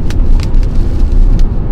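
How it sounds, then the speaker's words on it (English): A Jeep Renegade 4xE plug-in hybrid's engine drones loudly with a low, rough roar from inside the cabin, with a few brief hissy bursts over it and no talking. "I have to say, though, that engine noise, that reviness is almost annoying"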